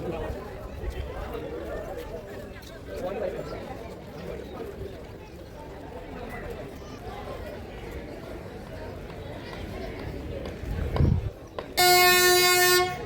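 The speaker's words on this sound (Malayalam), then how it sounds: "ഇത്രയും നേരം വെയിറ്റ് ചെയ്തിരുന്ന ട്രെയിൻ എത്തി കേട്ടോ" Ooty toy train pulls into the station with a rumbling rolling sound under a busy crowd of voices on the platform, ending with a loud, sustained horn blast up close.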